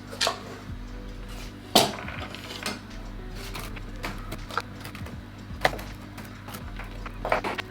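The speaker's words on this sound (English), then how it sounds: "I like to just quickly chop them up a little bit." Pecans are chopped with a knife on a board for homemade maple granola, giving sharp, irregular knocks and taps scattered over a low background hum.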